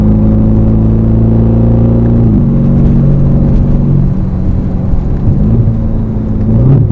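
Aston Martin Formula 1 safety car engine heard from inside as a loud, deep continuous roar with steady harmonic drone, shifting pitch briefly around two seconds and again near the end under acceleration.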